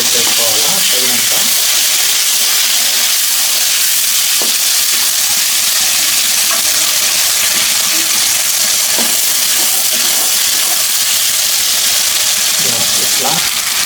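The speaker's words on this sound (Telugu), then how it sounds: "ఆయిల్ వేడిన తర్వాత అల్లం వెల్లుల్లి పేస్ట్ వేసుకోవాలా తగినంత" Ginger garlic paste sizzles in hot oil for a village-style rabbit fry, a steady loud frying hiss that runs throughout with a few faint clinks and stirs.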